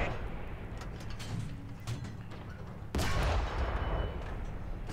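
Tank cannon and machine-gun fire during a War Thunder ground battle at Kursk, scattered distant cracks over rumbling engine noise, with one heavy close blast about midway.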